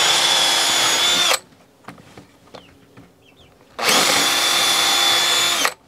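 A power drill whines loudly, pre-drilling into old wood for over a second, stops for a few quiet seconds with faint handling clicks, then drills again for about two seconds.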